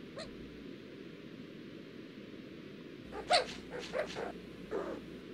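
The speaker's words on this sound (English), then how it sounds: "the great horned owl is the skunk's number one predator" Faint, distant great horned owl hoots sound in a quiet night setting, a few soft low calls spaced out near the end over steady background hiss.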